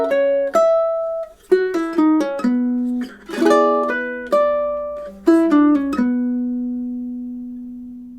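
A ukulele plays two measures of the Nutcracker March, plucked notes and strummed chords ringing clearly one after another and decaying, ending on a sustained note.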